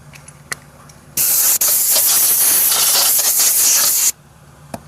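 Aerosol spray painting a Toyota Corolla wheel with Sonic Silver paint, a single loud close hiss of about three seconds from the can, with quiet near-silence before and after.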